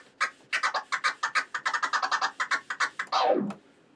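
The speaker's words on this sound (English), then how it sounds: "People call it the Chirp Scratch because it sounds like a bird." Turntable chirp scratching: a fast, rhythmic run of short, bird-like squeaks, ending in one longer downward-sliding scratch.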